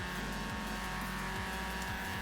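A car driving in Forza Horizon 4, carrying a steady, low engine drone with faint pitch sweeps of shifting revs, heard quietly and continuously with no voices.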